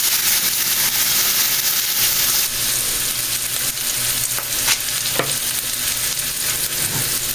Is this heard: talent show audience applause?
no